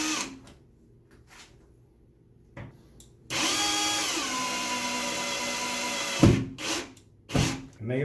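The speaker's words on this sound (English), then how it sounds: "I'm actually going to use my cordless drill to mushroom them." A cordless drill whines in one sustained burst of about three seconds, its pitch sagging under load as it tightens and mushrooms wall anchors, followed by a few short clicks and thumps.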